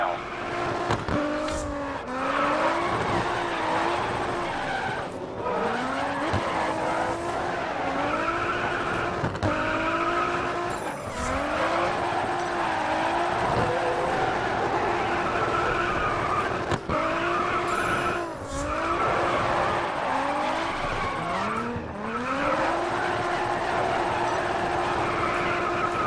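Race cars in GRID Autosport, a continuous loud engine roar rising and falling through repeated gear shifts, with tire squeal and skidding as the cars corner, no talking.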